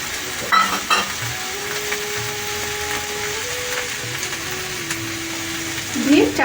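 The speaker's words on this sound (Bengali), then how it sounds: "আর দিচ্ছি এখানে তৈরি করে রাখা ছোলা" Prepared chickpeas go into a pan of Bengali pumpkin curry and are stirred and fried, giving a steady soft sizzle with scraping spoon sounds and a couple of louder clatters at the start and end.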